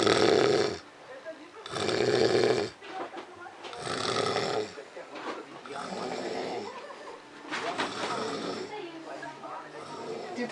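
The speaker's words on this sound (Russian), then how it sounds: "И этот человек еще утверждает, что он не храпит." An elderly man snores loudly in a home, long rasping breaths repeating in a slow rhythm, with quieter stretches of breathing and background noise between them.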